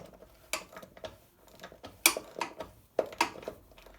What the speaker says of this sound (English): It's just the ratchets hitting off of the kind of relays and stuff.